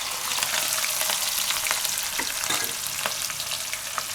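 Garlic and green chillies sizzle in hot oil with cumin, a dense, steady frying hiss close by, broken by a few small pops and crackles.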